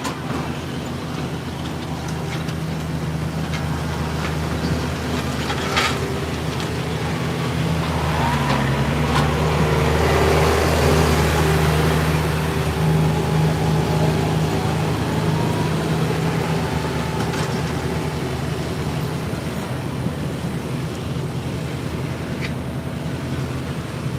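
A 2002 GMC dually pickup pulling at a truck and tractor pull, its engine a loud, steady roar that swells toward the middle of the run and holds on, with crowd and arena noise underneath.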